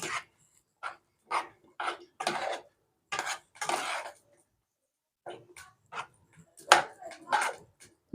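Potatoes and fish being stirred in a pan with tomato sauce, heard as a series of short, close scraping and clinking knocks of a utensil against the pan in uneven bursts, with no voices.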